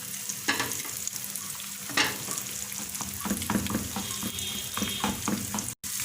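An egg fries in hot ghee or oil for anda shami, a steady close sizzle with scattered stirring scrapes and taps building through the middle and one abrupt brief dropout near the end.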